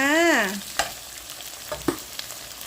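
Glass noodles with meatballs and kale are stir-fried in a wok: a low sizzle under sharp clanks of a spatula against metal. A brief wavering tonal squeal opens the scene, and there is no talking.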